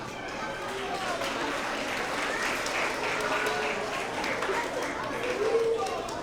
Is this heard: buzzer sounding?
no